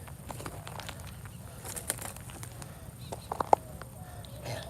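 Birds call faintly outdoors on an urban rockhounding walk, with a few brief chirps over a steady low background of wind and distant ambient noise.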